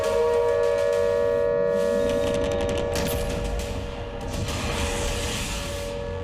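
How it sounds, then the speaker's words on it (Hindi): War siren sounding, a steady sustained wail held at near-constant pitch, loud throughout, with bursts of rapid crackling like gunfire layered over it. "युद्ध का सायरन बज रहा है"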